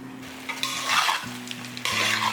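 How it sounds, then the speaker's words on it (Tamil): Mutton curry being stirred and sautéed in a pan for a festival-style Tamil mutton kuzhambu, with a steady close sizzle and scraping spoon strokes, rising in bursts throughout. "இது ஒரு நிமிஷம் நல்லா வதங்கட்டும்."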